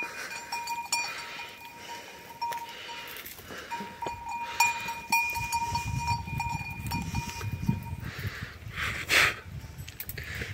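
A herd of goats grazing on hillside scrubland, with their cowbells clinking and clanking steadily at moderate distance, plus faint rustling and a bleat near the end.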